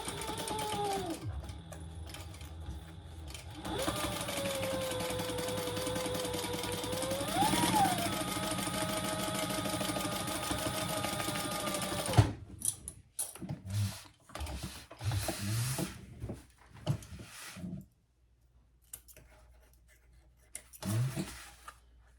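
A home sewing machine runs in a long steady whir as it stitches a seam on a fabric sling crossbody bag, then gives way to short start-stop bursts and handling noises.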